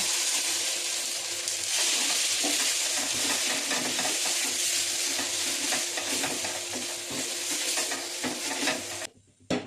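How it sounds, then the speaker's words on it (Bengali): Ground green pea paste frying with spices in a pan for a pea kachori filling: a loud, continuous sizzle and crackle with scraping stirs throughout, cutting off abruptly near the end. "এই সময় আমি দিয়ে দেবো এই যে পিষে রাখা মটরশুঁটির"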